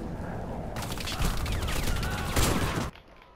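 A burst of gunfire in the shooter game Warface, a dense rattling volley lasting a couple of seconds, loud and close, then cutting off sharply to quiet.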